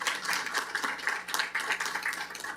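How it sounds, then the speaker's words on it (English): Clapping from a small audience at a city council special meeting, steady and moderately close, a scattered patter of hands lasting a few seconds without talk over it. "And a round of applause."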